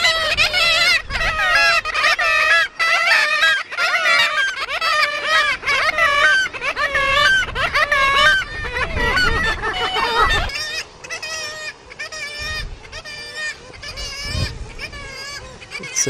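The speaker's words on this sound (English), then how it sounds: "got a lot of nesting kittiwakes which you can get really close to. You can probably hear them as well," Kittiwakes squabble at a crowded nesting colony on the Farne Islands, their shrill, nasal calls overlapping in a loud, continuous chorus close by that thins out somewhat toward the end.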